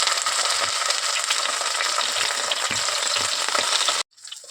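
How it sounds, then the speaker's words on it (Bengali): Leaves tied with thread frying in a little oil, a loud continuous sizzle with crackles that cuts off abruptly near the end, no talk. "তো এরপর আমি একটুখানি তেলে সেঁকে নেব।"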